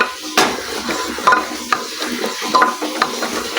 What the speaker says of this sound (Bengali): আর ছিলে রাখা কাঁঠালের দানাগুলো দিয়ে দিচ্ছি। এগুলোকে ভালো করে সঙ্গে কষিয়ে নিচ্ছি।